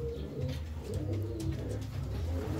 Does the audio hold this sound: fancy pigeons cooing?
yes